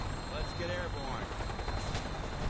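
A Fallout 4 aircraft takes off, its engine and rotor drone a constant dense roar, with a brief radio-style voice heard over it.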